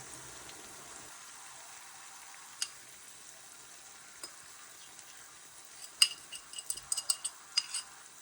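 Beaten eggs with sorrel frying in a pan as an omelette, a soft steady sizzle joined by a few sharp clinks and scrapes of stirring toward the end, close and quiet, with no one talking.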